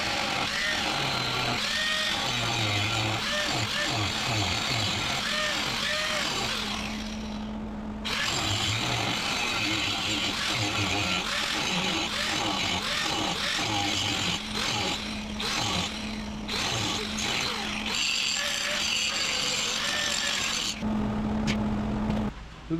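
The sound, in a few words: grinding out a crack in a cast iron pump housing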